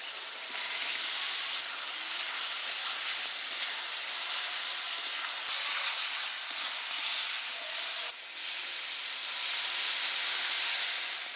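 Boiled potatoes dropped into hot spiced oil with turmeric and tomato, producing a steady, bright hissing sizzle that holds for several seconds and briefly dips before swelling again, close and without speech.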